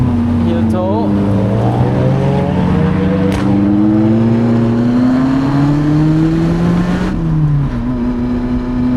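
A car with a very loud exhaust revs through a heel-toe downshift on an Alpine mountain pass, engine pitch sweeping up and down in sharp blips, close and loud, with a voice talking over it.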